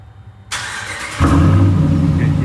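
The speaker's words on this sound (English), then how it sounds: "You can hear that nice crack to the exhaust, like deep throaty sound" A 2018 Ram 1500 Sport pickup with an aftermarket exhaust is started with its factory remote starter: a starter click, then the engine fires with a loud crack and settles into a deep, throaty idle close by.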